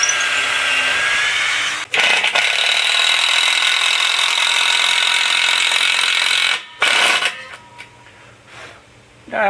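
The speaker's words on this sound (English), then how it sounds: "You don't have to have an impact driver for this, but it certainly helps." An impact driver rattles heavy screws into soft cedar, with one long sustained burst of driving followed by shorter choppy bursts and pauses, close and loud.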